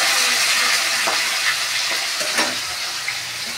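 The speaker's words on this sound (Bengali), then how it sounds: "আমি একটুখানি ভেজে নেব।" Hilsa fish fries in a pan with a steady, bright sizzle, broken by a few soft clinks and stirring sounds close by.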